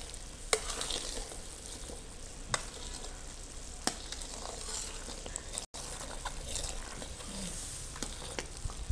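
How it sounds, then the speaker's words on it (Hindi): A spoon stirs sugar melting in a pan for maida halwa, giving a steady soft sizzle with occasional sharp clinks of the spoon against the pan. "वक्फे वक्फे से चम्मच चलाते रहें ताकि चीनी लग ना जाए"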